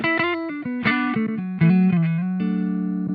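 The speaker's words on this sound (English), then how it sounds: "If you turn them both down and just have the dry signal, it's basically just it goes through the buffer" Dry electric guitar signal passing only through the buffer of a Boss OC-2 or TC Electronic Nether octave pedal, with quick picked notes and short phrases ending on a sustained chord, with no talking.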